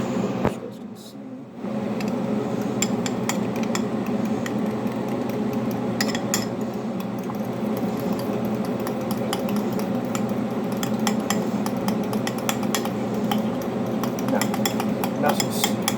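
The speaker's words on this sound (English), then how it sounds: "we're going to grab ourselves a fork, and then we're just going to start mixing up all the ingredients" A fork clinks and scrapes inside a bowl as seasoned egg ingredients are mixed, a steady busy rattle of metal on dishware that begins after a short quiet moment and continues to the end.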